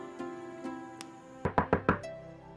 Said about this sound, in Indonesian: kayaknya ada yang ngetok pintu ya?